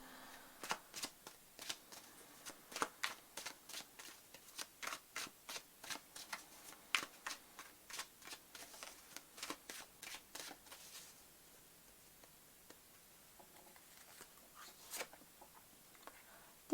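Tarot cards are shuffled close up in a quiet room, a quick train of crisp riffling slaps in steady rhythm that thins to a few scattered flicks toward the end.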